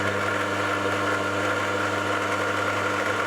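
A drill starting its cut at about 600 RPM with no centre-drilled pilot, giving a steady mid-pitched machine hum with constant tonal whine, unbroken and fairly close, with no talk.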